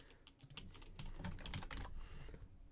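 Quick, steady clicking of keys on a computer keyboard, close and fairly soft, with no talking.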